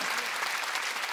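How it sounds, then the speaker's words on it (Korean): A Sunday worship congregation at a Korean church applauds to praise God, a dense, continuous burst of many hands clapping that fills the short moment. "하나님께 박수 칩시다"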